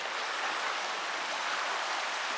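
A waterfall in Nisəqala canyon pours as a steady, dense hiss of falling water, even and unbroken, fairly soft, with no voices.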